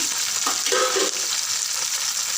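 Onions and green chillies frying in oil for an egg curry with spring onions, a steady close broadband sizzle over the full stretch with a short stirring scrape near the start.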